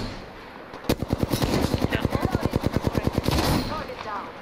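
Automatic gunfire in the video game Apex Legends: a rapid burst of roughly two dozen sharp, evenly spaced shots rattles on for about two and a half seconds, loud and close, then cuts off.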